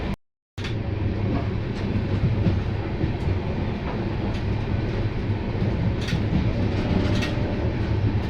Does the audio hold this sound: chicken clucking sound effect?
no